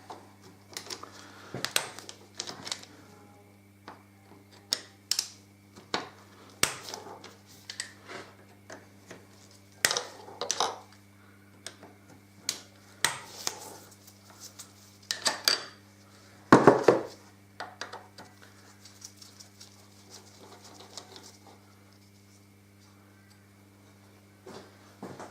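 Sparse metallic clicks and clinks of a tool undoing the rocker cover bolts on a Suzuki DL1000 V-Strom motorcycle, isolated close taps spaced irregularly over a low steady hum.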